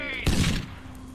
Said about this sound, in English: He's got a nade, he's going to prime it.